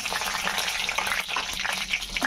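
Halved dried red chillies frying in hot oil, a steady crackling sizzle that fills the short stretch at close range with no talk over it.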